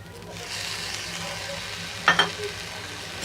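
Poha stirred with lemon juice in a hot pan, a soft continuous sizzle with a spoon's scraping, and a couple of sharp metallic knocks near the end.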